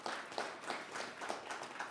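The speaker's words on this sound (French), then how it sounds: "qui méritent encore un grand applaudissement pour" Audience applause at a francophone delegates' side-event meeting at the COP23 climate conference, a steady dense patter of many hands clapping together for the whole stretch at moderate level.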